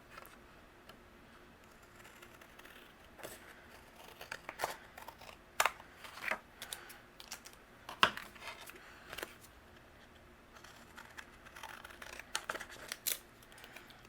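Scissors trim overhanging paper panels from a handmade card: quiet, irregular snips and crisp paper rustles close by, spread across the whole stretch without any voices.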